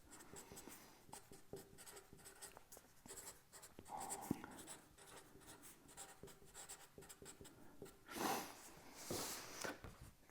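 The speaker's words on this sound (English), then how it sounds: "So I'm going to write the words first." A pen writes words on paper, close and quiet, with steady scratching strokes and short pauses between letters.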